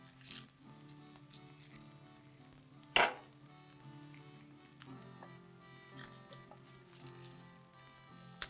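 Chunky onion pieces frying in a pan on a home stove, a soft steady sizzle with a sharp clatter of the spoon stirring partway through, faint and close.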